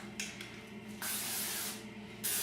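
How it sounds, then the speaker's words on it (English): Hairspray hisses from an aerosol can onto freshly curled hair in quiet bursts: a short puff, a longer steady spray, then another spray starting at the end. "we're going to spray it with a little bit of hairspray"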